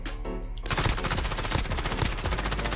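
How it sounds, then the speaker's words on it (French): Rapid automatic gunfire in the Warzone battle royale game, bursts of shots cracking in a dense continuous barrage after a brief quieter opening, loud and close. "Ça tire de je sais pas où."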